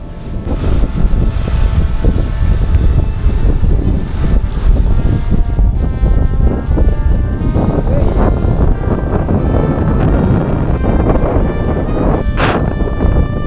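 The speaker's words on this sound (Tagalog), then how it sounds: "Grabe yung hangin" Loud, constant wind buffeting a microphone, roaring without a break over a steady rushing background.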